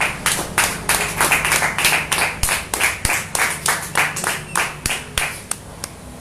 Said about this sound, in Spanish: Denle fuerte las palmas al Rey